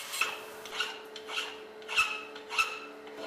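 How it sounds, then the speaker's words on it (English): Hand file strokes scrape across the face of a forged steel flint striker, about five rasping passes in an even back-and-forth rhythm, close and clear with no talk. "I then grind and file the face of the striker, as the metal here has to be clean in order to produce good sparks"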